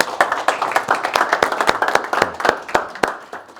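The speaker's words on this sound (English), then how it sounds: "Round of applause to Martin." A small audience claps after a talk at a training course session, the sharp separate handclaps fairly close and somewhat sparse, fading slightly toward the end.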